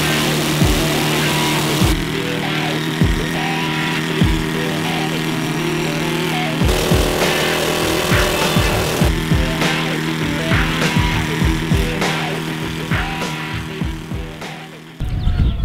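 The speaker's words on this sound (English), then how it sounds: "Air leg drilling, which is it's a 303 air leg drill, and you've got to punch 2 or 3 holes into concrete." A 303 air leg drill punches holes into concrete at a mining games contest, a steady loud pneumatic hammering with repeated sharp percussive bursts running throughout, no voices heard.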